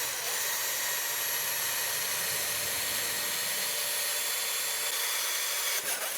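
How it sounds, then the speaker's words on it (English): A drill bores a 5/16 inch hole in PVC pipe with a steady, loud high-pitched whine and hiss that holds evenly for about six seconds before stopping abruptly. "now we're going to take and drill the 5/16 inch hole for another bird"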